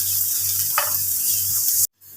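Soft onions with turmeric powder frying in a pan over medium flame give a steady moderate sizzle with a brief stirring scrape, cutting off abruptly near the end.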